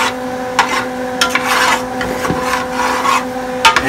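Roux is stirred constantly in a pot, producing close rasping scrapes of a spoon against the bottom in uneven strokes over a faint steady hum.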